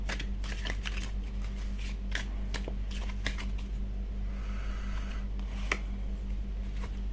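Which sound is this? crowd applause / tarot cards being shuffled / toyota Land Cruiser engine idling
tarot cards being shuffled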